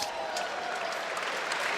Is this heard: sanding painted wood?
no